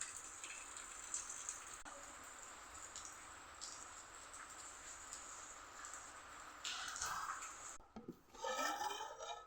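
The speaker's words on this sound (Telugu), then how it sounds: "ఫుల్ వర్షం పడుతుంది." Heavy monsoon rain keeps falling, making a continuous, fairly quiet wash of hiss with no speech. Brief rustling and handling noises rise near the end.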